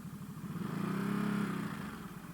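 A motorcycle on a Japanese mountain road as it is being parked, its engine close and moderately loud, rumbling and pulsing as it swells into a brief rev and then settles back to idle.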